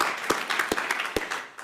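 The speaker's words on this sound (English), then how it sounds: "Let's have a round of applause for the press coverage and folks who told the Artemis story" Applause at a space-policy anniversary celebration for the Artemis Accords, a broad wash of crowd clapping with a few sharper claps standing out, steady and moderately loud, tapering slightly at the end.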